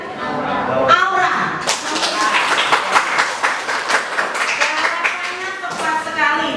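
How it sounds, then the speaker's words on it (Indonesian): A classroom of junior high students claps for two classmates, Mawar and Aura, a loud burst of close, uneven hand claps that starts abruptly and carries on with a few distinct slaps mixed in. "Tepuk tangan untuk Mawar dan Aura"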